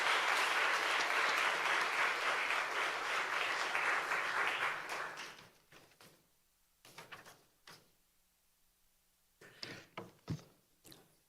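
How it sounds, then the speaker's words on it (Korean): A seminar audience applauds a speaker with dense, loud clapping for about five seconds, fading into scattered claps and knocks. "힘찬 박수로 한번 하면"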